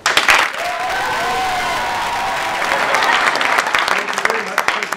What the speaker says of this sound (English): if I could ask you to give a warm round of applause to a very dear colleague and a very noble professional, Pal Aaron